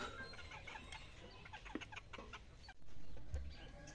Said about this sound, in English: they're miniature chickens, and we absolutely love them on our farm.